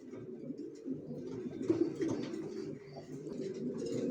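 Racing pigeons cooing nearby, a low soft rolling coo repeated continuously at moderate loudness.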